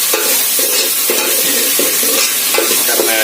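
Onion and curry leaves stir-fried for dal tadka, a steady loud sizzle with rhythmic scraping strokes of a spatula in the pan, about one stroke every half second, continuous with no talking.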